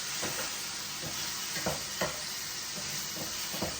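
Tomatoes charring in a hot pan give off a continuous sizzle, broken by several soft scraping stirs and clinks at an uneven pace, close and moderately loud with nobody talking.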